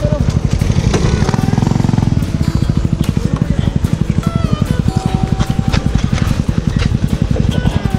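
A motorcycle engine idles close by with a steady, rapid low chug on a mountain trail in Tanay, Rizal, as people talk over it.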